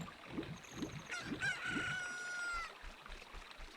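A chicken clucks several times in a steady rhythm, then lets out a loud crowing call, in The Legend of Zelda: Ocarina of Time, with soft game background beneath.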